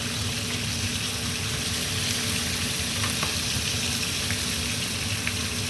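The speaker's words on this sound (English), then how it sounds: "as they're searing, you want a nice golden sear" Beef short ribs sear in a pan with a loud, dense, constant sizzle that holds evenly from start to finish, close and without pauses.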